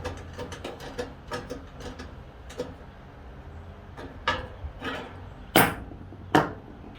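A bolt on a chicken auto feeder is tightened with a 10 mm wrench, with irregular close metallic clicks and taps, some sharper knocks near the end, and no talk.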